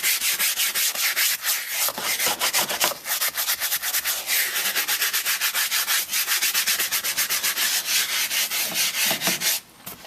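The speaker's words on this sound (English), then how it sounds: "You want to scrub fairly aggressively. Keep it wet while you're doing this." A stiff brush scrubs a wet leather car seat in fast, aggressive back-and-forth strokes, a dense rhythmic rasping that runs continuously up close before stopping abruptly.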